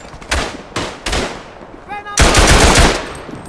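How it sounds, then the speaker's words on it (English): Machine gun fire in the World War I shooter Tannenberg: three short loud bursts, then a longer sustained burst, close and punchy with a brief mechanical whine between them. "Machine gun."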